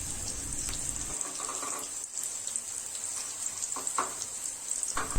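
Chopped garlic and onion frying with radish in a pan, a constant bright sizzle with occasional light taps and stirs, close and moderately loud, no one speaking.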